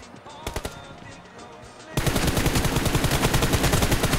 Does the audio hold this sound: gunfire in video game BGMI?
yes